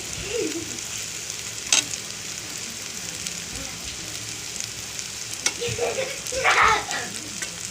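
Tomatoes and turmeric sizzle steadily in a frying pan, a soft continuous crackle with occasional louder stirring scrapes and spatters near the end.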